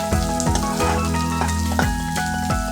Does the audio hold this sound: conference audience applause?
no